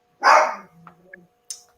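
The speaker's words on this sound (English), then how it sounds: "My dog joining." During an indoor interview, a dog lets out a single loud, close bark, followed by faint small noises and a short high yip.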